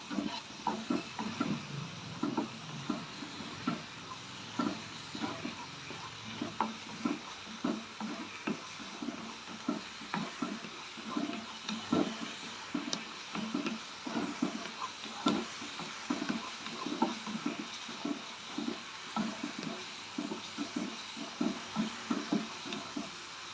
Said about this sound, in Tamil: இப்போ எல்லாத்தையும் ஒன்றா மிக்ஸ் பண்ணிக்குவோம்